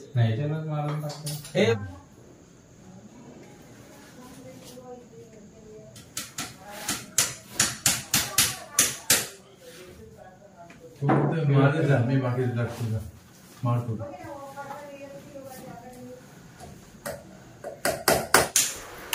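Hammer used to fasten a toran garland behind a curtain for a Ganesh festival decoration, heard as bursts of sharp, close knocks in quick rhythmic runs, interleaved with someone talking.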